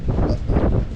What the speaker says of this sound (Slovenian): Kak piha, tako je bilo že po napovedi